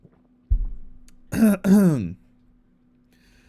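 A single close throat clearing, a short rough rumble followed by two harsh, voiced rasps, then quiet.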